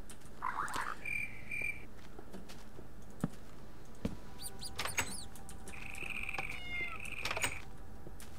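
A rat in the modded Minecraft Technic game lets out cat-like meowing squeaks, a short cluster near the start and a longer pair of calls later, over a steady low background rumble with a few clicks.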